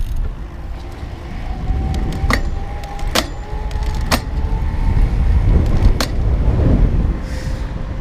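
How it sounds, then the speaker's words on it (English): Gears shifting on a 2017 Raleigh Redux iE electric bike while riding: a few sharp, isolated clicks spaced seconds apart over a steady rumble of road and wind noise. "I'm gonna do some gear shifting now."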